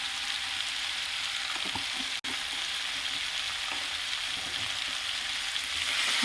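Turmeric and chili powder fry in a pan and are stirred through a curry of giant taro root and local chicken, giving a loud, continuous, close sizzling hiss with one brief break and no talking.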